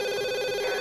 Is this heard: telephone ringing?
yes